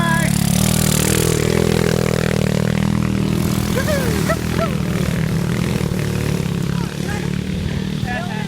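Motorbike engines rumble steadily close by, several riders climbing a dirt fire trail on a high ridge with revving, while people chatter and call out over the noise.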